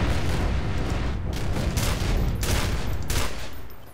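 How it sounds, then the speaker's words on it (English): Sustained gunfire fills the scene as a sniper shoots at looters in the video game E.Y.E. Divine Cybermancy, with loud overlapping shots and booming rattles that continue without a break. "that sniper just gave his position away by shooting those looters"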